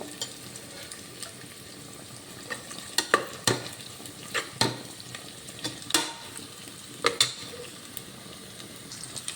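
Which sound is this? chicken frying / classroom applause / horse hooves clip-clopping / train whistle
chicken frying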